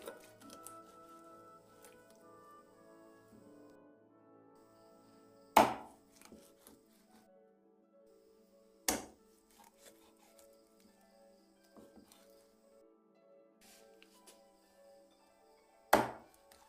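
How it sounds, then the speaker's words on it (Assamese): Boroli fish chopped into pieces on a board, three loud sharp chops spaced a few seconds apart with faint tapping and knife handling between them, close and without talk. "মাছটো আমি এনেকৈ কাটি লৈছোঁ পিচ পিচ কৰি"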